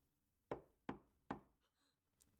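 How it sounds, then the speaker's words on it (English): Three sharp, evenly spaced knocks on a door ring out in the visual novel game Steins;Gate, clear and close with brief decays, followed by faint quiet tones. "There's a knock on the door."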